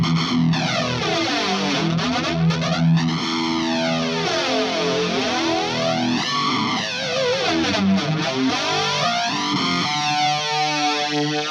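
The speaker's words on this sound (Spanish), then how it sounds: "lo que hice fue agregar un plexi, pero además le puse un flanger" Electric guitar played through a NUX MG30 with a Plexi amp model and flanger, a loud distorted tone with a sweeping, whooshing flange rising and falling about every three seconds, sustained alone throughout.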